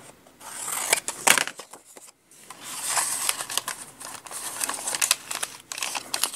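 Scissors snip and crinkle through paper for a junk journal, a series of close, sharp cuts and rustles with a short pause midway.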